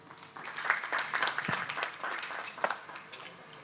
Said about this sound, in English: A round of applause, Kweku.